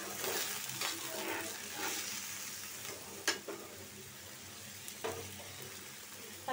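Onion, garlic and potato frying in a pan with water added, giving a steady close sizzle with stirring scrapes and a few sharp clicks, no voices.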